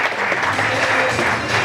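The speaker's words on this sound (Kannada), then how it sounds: "ಜೋರಾದ ಒಂದು ಚಪ್ಪಾಳೆ ಬರಲಿ ಅಂತ ಹೇಳಿ" A burst of loud applause from an audience honouring an army recruit, dense and continuous for a short moment with no talk over it.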